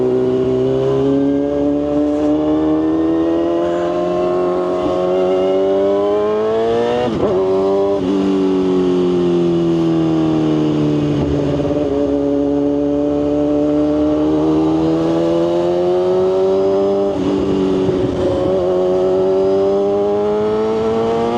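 A motorcycle engine revs loud and close as the bike is ridden, its pitch repeatedly climbing through the gears and dropping on each shift, heard alone without talk.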